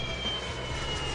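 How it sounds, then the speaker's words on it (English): An airplane drones steadily overhead with a smooth, even engine roar at moderate distance, alone and without talk. "Airplane."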